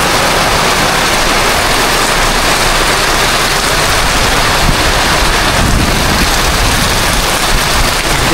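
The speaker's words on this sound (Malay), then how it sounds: "Hujan. Air hujan." Steady heavy rain pours down outdoors in Mukah, a dense loud hiss with a wind-buffeted rush, unbroken and close.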